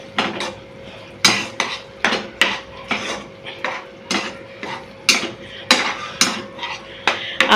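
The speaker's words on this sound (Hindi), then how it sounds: "ये गया रेड चिली सॉस। ठीक है, इसको एक मिक्स दे देंगे।" Red chili sauce being mixed into pasta in a pot: a spoon scrapes and clinks against the cookware about twice a second, close and fairly loud, with no talking.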